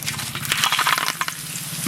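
Bay leaves frying in hot mustard oil for a village rohu fish curry, a close, bright sizzle crackling in bursts with stirring clatter and no voices.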